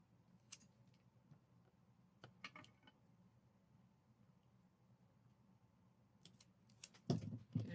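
Scissors make a few quiet snips trimming paper for a craft project, with a soft rustle and handling near the end.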